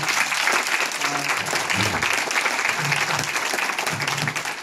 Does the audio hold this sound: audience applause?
yes